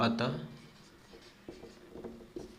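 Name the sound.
writing on paper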